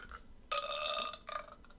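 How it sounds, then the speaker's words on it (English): A single short, raspy burp lasting about a second, fairly quiet and close, followed by a fainter trailing gulp. "I give it a burp"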